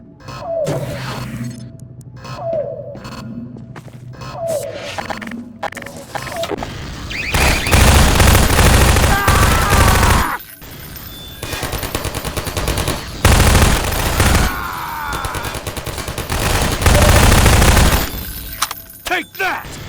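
Rapid automatic gunfire from turrets in Half-Life 2: Episode 2 rattles in loud, sustained bursts. Each burst breaks off into brief pauses and comes back heavier, with blasts and clatter layered over it, and a voice is heard early on.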